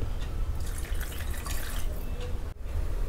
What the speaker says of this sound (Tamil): ஒரு டம்ளர் ஊற்றுனேன்னா இப்போது அரை டம்ளர் தண்ணி